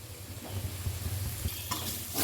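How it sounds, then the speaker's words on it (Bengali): Spice paste fries in a pan for a fish finger recipe, a steady soft sizzle with intermittent scraping stirs, close and moderately quiet, a brighter sputter near the end. "এবার এভাবে মশলাটা একটু ভেজে নেব আগে"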